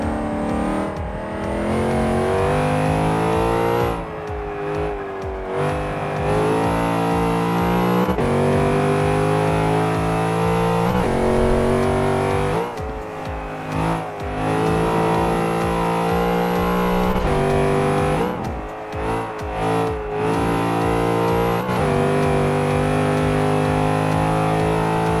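Plymouth Cuda Hemi V8 in Forza 5 screaming near the redline, a loud continuous engine roar that climbs through each gear and drops briefly at the shifts around 4, 13 and 19 seconds, with no talking.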